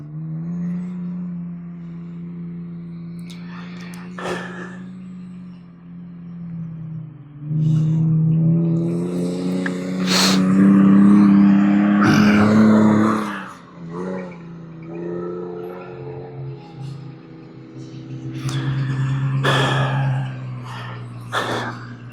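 A vehicle drives over desert jumps with a steady low engine drone that rises into louder straining surges and rattles midway and again near the end, heard close up and alone.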